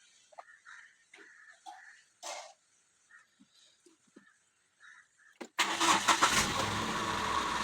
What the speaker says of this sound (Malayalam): ഇനി നമുക്കൊന്ന് സ്റ്റാർട്ടാക്കി നോക്കാം.